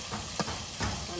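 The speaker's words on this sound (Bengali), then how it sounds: "মশলাটা কষানো হলো।" Spice paste being sautéed in a pan for a tilapia sour curry, a moderate continuous sizzle with a couple of brief scraping stirs breaking through.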